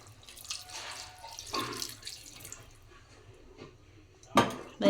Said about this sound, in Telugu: కూరకు సరిపడా వాటర్ అయితే వేసుకుందాము